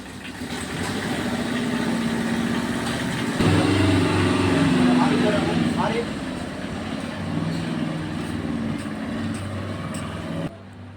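A materials delivery vehicle starts and pulls away, its engine rising into a louder rev before easing off as it drives away, with voices talking over the noise.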